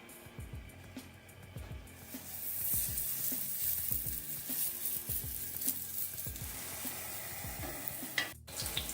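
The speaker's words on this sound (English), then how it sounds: "Nice sizzling." Food crackles and sizzles steadily in hot fat on medium heat while frying crispy deruny (potato pancakes), a dense close hiss with occasional low clatters and scrapes, and a brief sharper clunk near the end.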